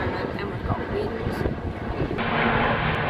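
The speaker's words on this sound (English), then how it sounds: "this is testing with an aeroplane. Going above my head at the moment" An aeroplane drones overhead in a broad, steady roar, mixed with gusty wind buffeting the microphone, continuous throughout.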